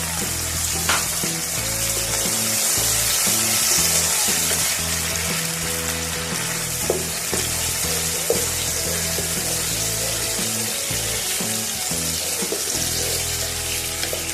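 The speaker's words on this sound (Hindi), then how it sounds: "अब टमाटर फ्राई हो जाएंगे।" Tomatoes fry in a pan while cooking chicken keema, giving a steady close sizzle throughout with a few faint clinks and stirring sounds, no voices.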